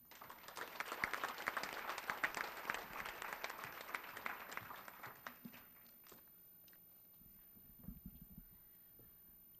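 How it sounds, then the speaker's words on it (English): Audience at a student awards banquet applauding elementary school awardees, dense clapping for about five seconds that then thins to scattered claps and fades into quiet room noise. "let's give our elementary school awardees another round of applause"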